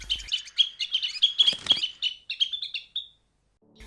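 Wild rosy-faced lovebirds chirping in Arizona, a rapid run of shrill, high tweets and squeaks, close and fairly loud, that stops abruptly near the end.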